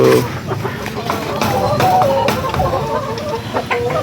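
Young Peruvian Calpara gamefowl, about five months old, cluck and shuffle nearby while someone talks over them, with brief scuffling and soft fowl calls in the background.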